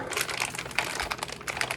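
Scissors cutting through a plastic piping bag for churro dough, a brief crinkly rustle of plastic with a few sharp snips, close and short.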